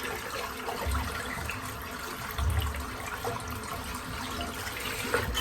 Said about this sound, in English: I'm just going to rinse out the bowl